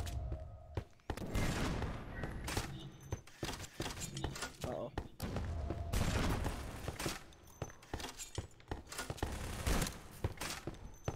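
Rapid bursts of gunfire from Garry's Mod ring out almost continuously, dense volleys and single cracks overlapping, with players talking over the shooting throughout.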